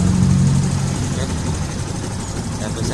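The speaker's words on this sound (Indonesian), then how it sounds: "ini RPM-nya di 1000 RPM" A Yamaha Byson motorcycle engine idles steadily at about 1000 RPM after carburetor service, giving a low, even, continuous rumble heard close up.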